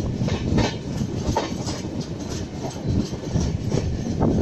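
A very long train rolls past in India, a loud, continuous rumble with rhythmic clickety-clack of wagon wheels over the rails, close by and steady throughout with no voices.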